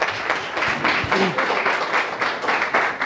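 An audience claps steadily in applause for Shubham at a workshop event, a dense, sustained patter of many hands filling the room without a break.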